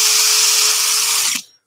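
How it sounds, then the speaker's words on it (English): A power drill bores through stacked skateboard decks in a woodworking shop, a loud steady high whine close up that cuts off abruptly near the end. "Using these decks as a little drill guide will really kind of speed things up."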